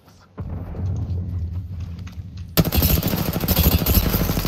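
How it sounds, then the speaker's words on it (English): Rapid bursts of gunfire in a squad-based shooter game, a sustained rattling volley that swells to loud and continuous partway through, with lower game noise beforehand. "I am taking fire."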